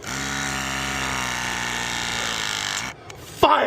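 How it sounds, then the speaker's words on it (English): A Zoom Lock press machine runs with a steady whirring motor hum while crimping an HVAC pipe fitting during a heat pump system rebuild. The hum cuts off abruptly near the end and a sharp clack follows. "Now, I'm gonna take this press machine, the zoom lock, get on there"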